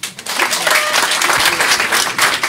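Warm, loud applause from guests at a 75th wedding anniversary vow renewal, a dense, steady clatter of many hands clapping up close, with a brief dip near the end.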